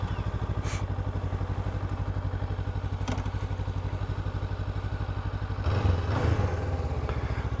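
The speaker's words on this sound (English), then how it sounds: "From the sound of the exhaust, also I think the exhaust looks the same. It sounds exactly like the CB500X" A 2024 Honda NX500 motorcycle idles with a steady, throbbing exhaust pulse close by, and a louder rev with thumping and clatter swells briefly near the end.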